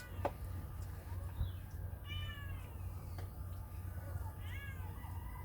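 A cat meows a few times, drawn-out rising and falling calls, over a steady low hum with faint background sounds.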